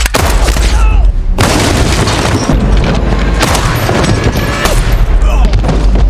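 A grenade exploding in an action film finale, a loud sustained roar of blasts and crackling gunfire filling the whole clip, with a brief dip before the chaos resumes and speech faintly mixed beneath.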